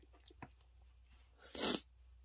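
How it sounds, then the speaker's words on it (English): A single sharp, loud sneeze bursts out near the end after some quiet breathy sounds and small noises. "Oh, I'm gonna sneeze."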